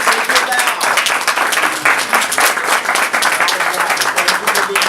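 An audience at an autism panel at a school applauds loudly and continuously, a dense wash of many hands clapping close by, with a voice faintly mixed in.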